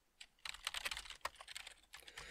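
Fingers type quickly on a computer keyboard, a close, quiet run of irregular key clicks with one sharper keystroke standing out midway.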